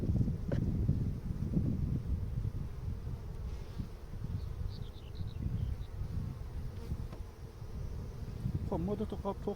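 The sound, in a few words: honeybees buzzing at a beehive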